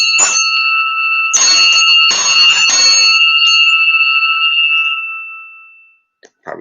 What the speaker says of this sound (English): ring the little bell